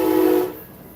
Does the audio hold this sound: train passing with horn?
yes